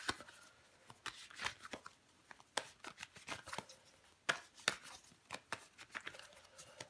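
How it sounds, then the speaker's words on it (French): Tarot cards are handled and laid down over others on a table, soft close shuffling and sliding with frequent light taps and flicks in an irregular rhythm. "Enfin, on va recouvrir les cartes."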